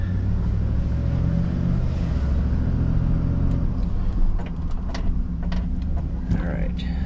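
A car is driven on a test run after brake work that reset the caliper pistons and fluid. A steady low engine and road rumble runs throughout from inside the car, with a few light clicks and rattles near the end.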